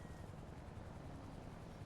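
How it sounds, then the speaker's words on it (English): A helicopter in a GTA-style online game gives a faint, distant, continuous low rotor rumble that stays steady throughout with no voices. "Why do I hear a helicopter?"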